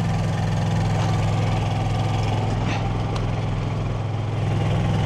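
A truck diesel engine idles loudly and steadily, a constant low rumbling drone close by with no talking, while the battery charges before a long-haul shift in Springfield, Missouri.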